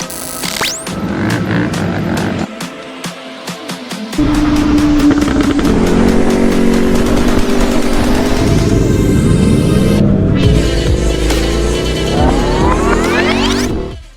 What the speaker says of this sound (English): This is the 2016 FZ09, 115 horsepower, 847cc motor.